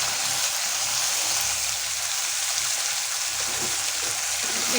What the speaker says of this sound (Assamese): এইখিনিও এতিয়া অকণমান ভাজি ল'ম।